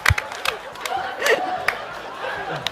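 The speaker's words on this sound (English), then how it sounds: "Why are y'all clapping?" A crowd at Scotiabank Arena in Toronto cheers and claps during a playoff elimination game, heard as a busy mix of shouts and scattered applause with nearby voices chattering over it.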